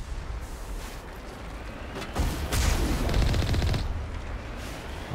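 Dense battle gunfire in the video game Mass Effect, steady shooting building into a heavier, louder burst of rapid fire and booms midway before easing back.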